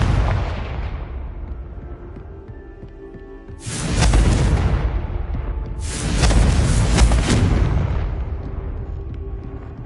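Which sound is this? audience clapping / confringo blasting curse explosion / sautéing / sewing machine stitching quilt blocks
confringo blasting curse explosion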